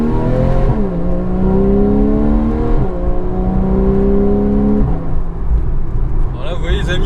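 A Porsche 911 50th anniversary edition's flat-six revving hard as the car accelerates on a ring road, loud and close, its rising engine note climbing in steps with each gear change.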